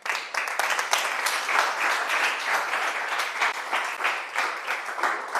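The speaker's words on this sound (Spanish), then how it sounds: "Dense un fuerte aplauso a ustedes." A church congregation applauds, a dense, sustained wash of many hands clapping at moderate distance that carries on steadily for several seconds without pause.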